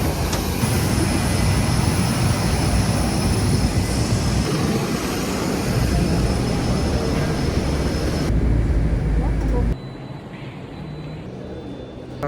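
Jet engines of a Qatar Airways airliner after landing in Kenya, a loud steady roar with broad rumble and a high whine, close and continuous, dropping suddenly to a quieter hum near the end.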